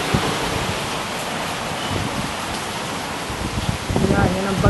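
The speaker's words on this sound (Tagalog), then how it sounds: "Naririnig niyo po ang hangin." Strong typhoon Glenda winds roaring past a home terrace, a dense, hissing rush like heavy rain or surf that stays loud and constant, with a brief voice-like murmur toward the end.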